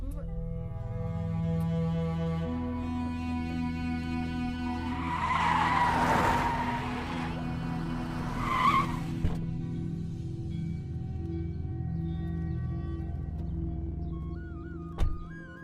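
Car tires squeal and skid loudly as a vehicle pulls away, with two sharp bursts standing out over a dramatic film score and ongoing ambience; no speech.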